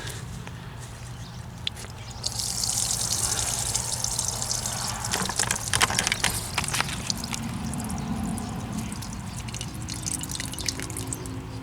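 Water drains out of a broken PVC pipe on a self-draining sprinkler system, a steady hiss of pouring and trickling water that grows slightly louder partway through and carries on without pause.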